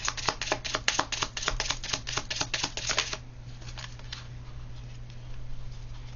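A deck of cards is shuffled before another card is drawn in a card reading: a quick run of crisp riffling clicks for about three seconds, then quiet with a low steady hum underneath.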